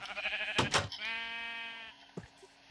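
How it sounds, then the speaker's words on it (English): Sheep bleating in the Minecraft video game, a couple of short bursts followed by one long, wavering bleat, loud and close with no talking. "I don't know how the sheep got in here."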